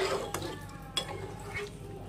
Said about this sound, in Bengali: পরিমাণ মতো জল দিয়ে নেড়েচেড়ে ঢাকা দিয়ে পুরো রান্নাটা করে নেব।